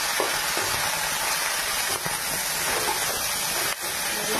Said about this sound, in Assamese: মই এইখিনিতে ভাজি